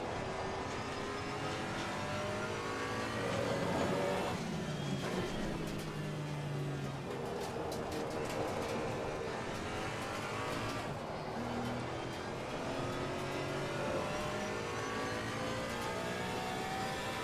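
GT3 race cars in a racing simulator game roar steadily without a break, engines rising and falling in pitch through shifts and braking, with no voices.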